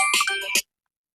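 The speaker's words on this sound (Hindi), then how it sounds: "फोन हुआ उठाओ" An electronic phone ringtone plays loudly with bright, tonal bursts for about half a second, then cuts off abruptly into silence.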